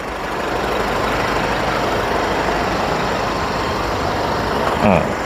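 A steady low 1.9-litre diesel engine of a 2018 Isuzu Spark manual pickup truck idles up close, a constant rumbling drone with no break.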